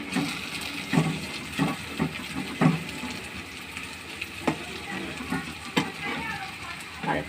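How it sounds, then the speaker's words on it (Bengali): Onions fry in a pan for biryani, with a steady low sizzle broken by rhythmic scraping stir strokes about once a second, fairly close and moderately loud. "পেঁয়াজটা প্রায় আর অল্প ভাজা হবে"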